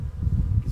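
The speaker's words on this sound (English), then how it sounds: "But lots of bees" Honey bees hum and buzz in a low, dense drone at an opened backyard hive in spring, close and continuous, with no voices.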